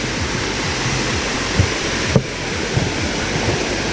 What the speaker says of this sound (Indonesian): Di sini juga terasa kedengaran suara ini air gemericik,